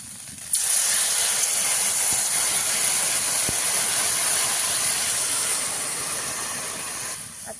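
A loud, steady sizzling hiss begins abruptly as water is added to frying vegetables for a pangas fish and potato curry, continuing for several seconds, slowly easing off.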